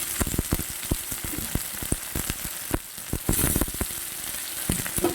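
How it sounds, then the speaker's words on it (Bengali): Chopped onions hit hot oil at full heat and fry with a loud, continuous crackling sizzle, dense with sharp pops and spatters throughout, close up and with no voices. "তেলটা পুরা দমে গরম হয়ে গেছে পেঁয়াজ কুচি করে রেখেছি তা দিচ্ছি পেঁয়াজগুলা দিয়ে দিচ্ছি"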